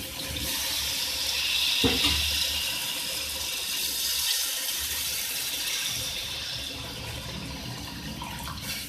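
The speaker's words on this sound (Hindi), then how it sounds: "ये इसमें पानी शामिल करेंगे।" Water pours and splashes steadily into a cooking pot of fish and potato curry gravy nearby, with a brief knock near the start and the flow easing later on.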